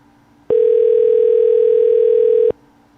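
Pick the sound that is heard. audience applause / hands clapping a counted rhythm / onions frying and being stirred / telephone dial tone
telephone dial tone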